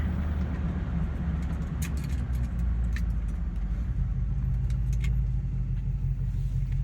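A car runs with the windows down and the exhaust cutout open, giving a steady heavy low rumble heard from inside the cabin, with faint rattles over it and no voices.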